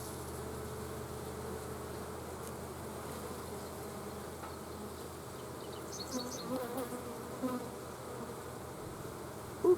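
Honey bees buzzing at an opened hive, a dense, steady hum close by that continues throughout without pause.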